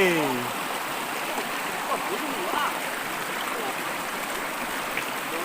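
A river flows through deep forest beside a fallen large bamboo, its constant rushing and gurgling close and steady throughout, with faint birdsong at the start.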